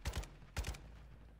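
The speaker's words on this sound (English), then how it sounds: "Oh, plenty of shots, yeah." Gunfire in Call of Duty DMZ, two quick pairs of muffled, distant shots in under a second, faint and alone.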